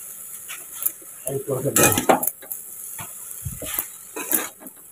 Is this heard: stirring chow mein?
yes